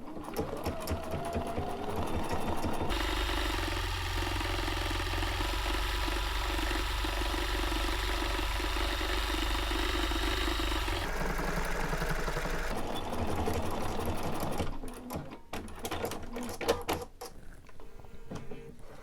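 Sewing machine stitching a quilt label runs in a loud, steady mechanical whir for about twelve seconds, pauses briefly, then resumes before giving way to clicks and handling noises near the end.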